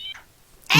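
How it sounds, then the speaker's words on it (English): A cat meows close by, one short mew followed by a louder, sharper meow after a brief pause, with no talk. "Cat has important things to say"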